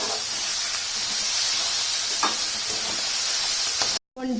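Grated raw mango fries in a hot pan with a loud, continuous close hiss and sizzle and faint stirring ticks, cutting off abruptly near the end before briefly returning.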